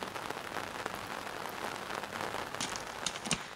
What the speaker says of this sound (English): already at 10 o'clock in the morning, it has started raining on and off on us